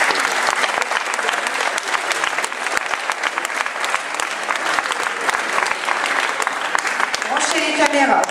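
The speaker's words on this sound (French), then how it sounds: "On compte sur vous pour nous applaudir bien fort" An audience breaks into sustained applause, a dense, steady wash of clapping that holds at full strength with little change throughout.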